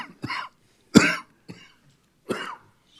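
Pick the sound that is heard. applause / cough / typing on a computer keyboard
cough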